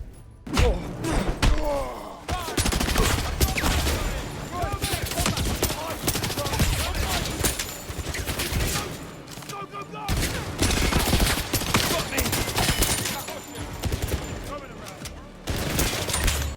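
Gunfire in the 007 First Light video game, with bursts of rapid shots and heavy thuds coming in dense, repeated volleys through most of the stretch, broken by short pauses, and a voice running over the action.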